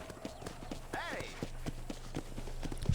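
Horse hooves clip-clop in a steady walking rhythm in Red Dead Redemption, close and clear, with a brief neigh partway through and someone talking over the hoofbeats.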